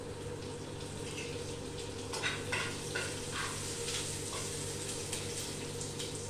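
Curry leaves, seven or eight of them, hitting hot oil in a pan of sautéing garlic chutney for pakoda kadhi, with a steady close sizzle and a soft constant hum beneath, plus a few light stirring scrapes.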